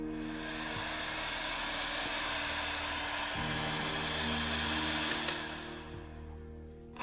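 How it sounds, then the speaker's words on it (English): A hot-air heat tool blows steadily to dry chemical glue on a crochet shoe sole, a continuous loud whooshing hiss that runs for about seven seconds before cutting off. "I'm applying heat to it because I'm using chemical glue."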